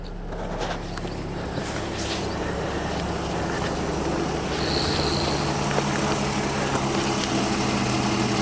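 A BMW E46 engine at operating temperature idling steadily with a light, fast lifter chatter ticking over the even hum, close up and with no revving or voices.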